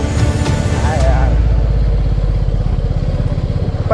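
A motorcycle engine labouring on a steep mountain ghat road in the Satpura hills, a loud steady throbbing close by, with a voice speaking over it at the start.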